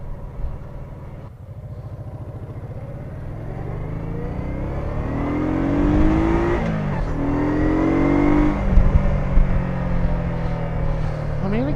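An old Honda PC800 touring motorcycle's engine runs and accelerates steadily. Rising pitch sweeps build through the middle, with the loud, close, continuous drone growing slightly louder toward the end.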